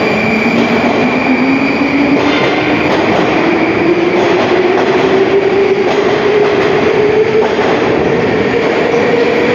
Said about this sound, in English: The train gets out of the way.